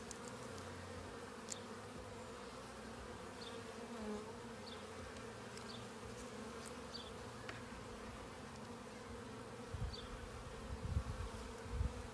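Honey bees droning in a continuous low buzz around an open hive during an apiary inspection in Ballachulish in June, faint and steady with occasional louder passes nearby.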